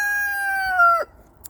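A rooster on a working farm crows once, loud and close, a long harmonic call that holds steady and then drops away sharply, followed by quiet farmyard ambience.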